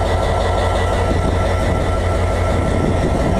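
A train rolls steadily past on the tracks, a dense continuous rumble with faint clickety-clack of wheels over rail joints, loud and close throughout with no talking.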